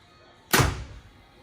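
A single bow shot close by during a bow setup: one sharp thump as the string releases, followed by a quick decaying twang, with no talk.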